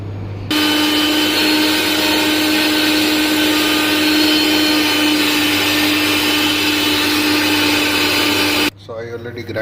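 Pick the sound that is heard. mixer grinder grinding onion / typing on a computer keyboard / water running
mixer grinder grinding onion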